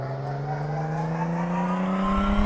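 A simulated car engine revs steadily on a dyno in Car Mechanic Simulator 2014, its pitch climbing smoothly and holding loud and close with no pauses.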